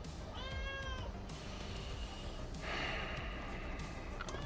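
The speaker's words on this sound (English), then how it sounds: "Oh, there's my cat." A pet cat meows several times close by, its rising and falling cries standing out over a steady background hum, with a faint breathy snort between calls.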